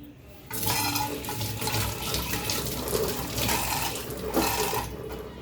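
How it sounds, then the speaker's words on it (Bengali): Tap water runs steadily into a kitchen sink as hands are washed beneath it, a continuous splashing gush with brief surges, close and fairly quiet, with no talking. "একটু হাতটা ধুয়ে নিই"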